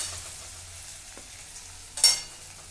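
Finely ground ginger-garlic paste sizzling in a pan for a moong curry, a soft steady frying hiss with a low hum underneath, then a sharper burst of sizzle and scraping near the end.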